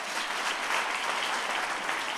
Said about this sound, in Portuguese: Vamos aplaudir pela vida do seu Sérgio aqui, ó